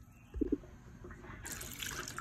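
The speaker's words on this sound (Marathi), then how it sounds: "तर आता स्वच्छ धुवून घेईल मी" Half a cup of toor dal is rinsed in water, giving a couple of quiet splashes followed by soft, faint sloshing and trickling, heard close up.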